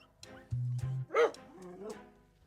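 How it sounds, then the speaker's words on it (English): Rescue dogs bark at a passing dog, a few close yips and barks plus a low whimper over a couple of seconds, with no talk. "This is what they're barking at."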